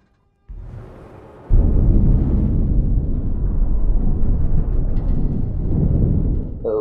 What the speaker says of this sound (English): sounds like the explosion did a little bit more damage than we would have thought